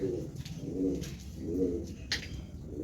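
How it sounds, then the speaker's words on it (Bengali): Giribaz pigeons coo in slow repeated rounds, soft low throaty calls close by, with a few faint rustles between them. "কিছু পায়রা এখানে চলে এসছে"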